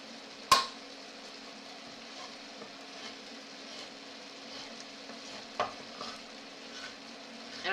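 Wine reducing in a paella pan, a faint steady simmering hiss with a couple of sharp clinks from a utensil or can, quiet and close.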